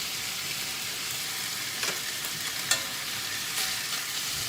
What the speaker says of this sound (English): you want to put your steaks just in the pan and you want to get them kind of brown and caramelised on the outside